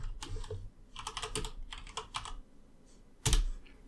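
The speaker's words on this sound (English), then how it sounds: "let me type Kali address" Close keystrokes tapped on a computer keyboard in short irregular runs, ending with one firmer key press, with no talking.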